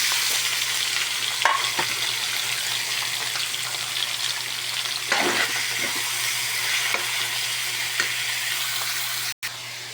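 Pansit bihon rice noodles sizzle and crackle in a hot pan while being stir-fried and tossed, a steady bright frying hiss broken by scraping stirs and a sharp clank near the end.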